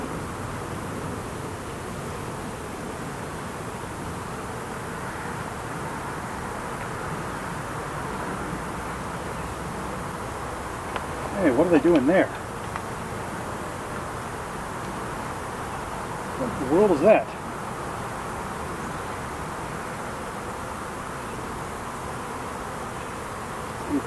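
Honey bees buzz around an open beehive during a varroa inspection, a steady low drone with short bursts of closer, louder buzzing, while a person talks over it.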